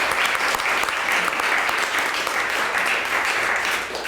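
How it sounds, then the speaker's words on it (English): Loud, sustained applause from a crowd, dense clapping throughout with no pauses. "let's give him a round of applause"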